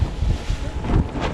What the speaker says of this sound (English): It's windy. 21 knots.